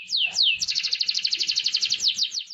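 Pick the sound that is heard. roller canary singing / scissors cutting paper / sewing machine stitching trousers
roller canary singing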